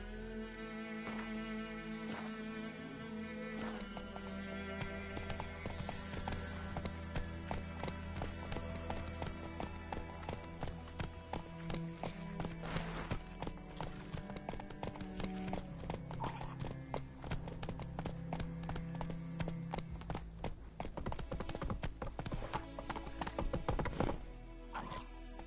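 Galloping hooves of the horse Roach in The Witcher 3: Wild Hunt, a fast, continuous clip-clop that runs close and loud throughout, with game music and ambience beneath it.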